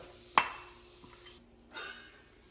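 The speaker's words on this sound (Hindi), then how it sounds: "तो अब इसमें डाल देता हूँ मटर" Peas go into a pan of spices roasted with onion for baingan bharta, giving one sharp metallic clink of a utensil on the pan, then a brief soft sizzle and a quiet scrape, no talking.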